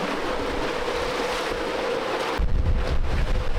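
A sailboat moving across open sea in light wind, with steady rushing wind and water noise throughout that swells into a heavier, closer rumble of wind buffeting the microphone near the end.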